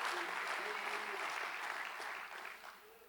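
A church congregation applauding steadily during a sermon, dense clapping that stays strong for a few seconds before thinning slightly at the end.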